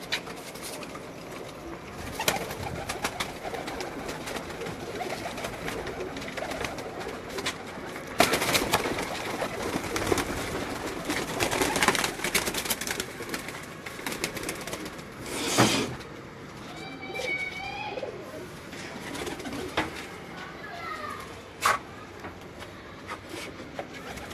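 Breeder pigeons coo intermittently in a loft, their low calls fairly faint beneath scattered clicks, wing flaps and shuffling noises.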